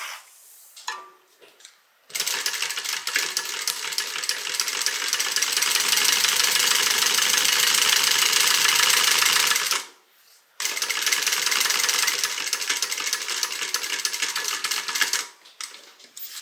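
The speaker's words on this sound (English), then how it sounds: "And I am going to do back stitches here because you're not going to see them" Sewing machine back stitching the adhesive lining of a leather hip bag, a loud steady mechanical whir in two long runs with a short pause between, alone without talk.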